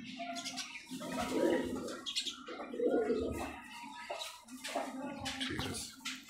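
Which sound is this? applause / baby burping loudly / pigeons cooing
pigeons cooing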